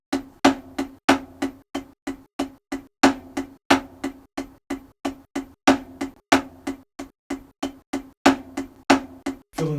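Drum fill built from double stroke rolls, played as a steady train of sharp, close, loud strikes with paired accents and a ringing tonal drum body under each hit, continuing alone without talk.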